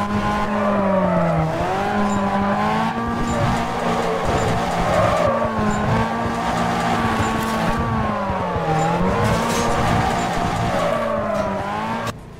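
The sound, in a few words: car drifting, tires skidding in Need for Speed Carbon video game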